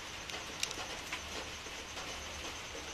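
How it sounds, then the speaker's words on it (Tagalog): Pigeons in a loft kept for breeding and raising young birds, soft low cooing and faint rustling under a steady background hiss, fairly quiet and close with no speech. "Mga kalapati natin."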